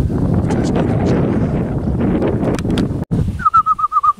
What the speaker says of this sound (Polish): Ale gołębie się pokazały.